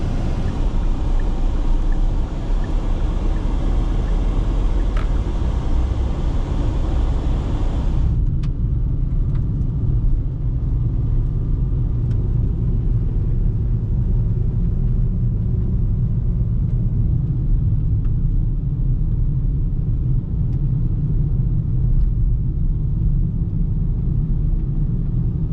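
A car engine idles and warms up on a cold Icelandic night, then drives on with a loud, steady low rumble that continues throughout after an early hiss cuts out.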